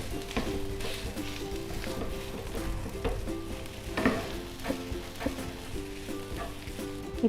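Mashed boiled potatoes sautéed in a pan for aloo bonda, a steady close sizzle and fry with repeated scraping stirs and light clinks throughout, no talking.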